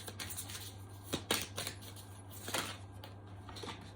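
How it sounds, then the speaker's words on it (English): Oracle cards are shuffled by hand in a quiet room, giving soft, irregular riffling and flicking bursts against a low steady hum. "So we're going to have a shuffle and see what wants to come through."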